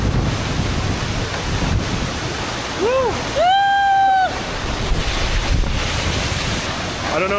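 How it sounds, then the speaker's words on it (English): A powerful waterfall at Labuhan Kebo in Munduk, Bali roars loud and constant, with heavy wind and spray buffeting the microphone and a person whooping partway through. "this is such a nice waterfall"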